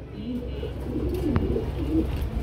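Pigeons coo softly at a busy pigeon market in Bangladesh, a low murmuring coo repeating steadily under a constant crowd hubbub, with a few brief sharper sounds.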